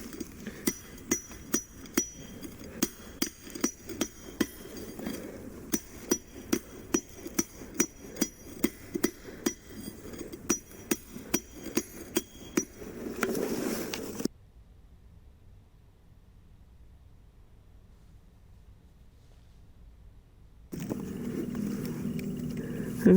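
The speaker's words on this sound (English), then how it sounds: "today we're going to be trying to drill a hole the old style way" Rapid, regular metallic tapping of primitive hand tools drilling a hole in sandstone, steady blows for several seconds, then a long near-silent pause before the grinding and tapping resume.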